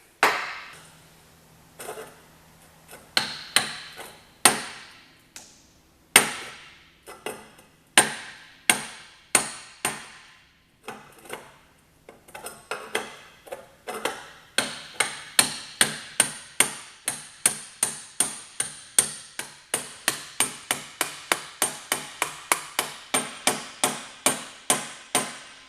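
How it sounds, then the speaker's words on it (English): A hammer strikes a steel driveshaft yoke to drive it into its tube in a home garage, at first in scattered sharp blows, then in a steady fast series of ringing metallic hits that grow regular toward the end. "You can tweak it as you go with the hammer"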